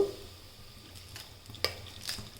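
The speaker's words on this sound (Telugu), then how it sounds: "అందులో వేసి లైట్గా రోస్ట్ చేసుకుందాం" Whole spices, cinnamon, cloves, star anise, cardamom and bay leaf, lightly roast in hot oil in a pan while being stirred, giving a soft sizzle with a few scraping clinks of a spoon against metal.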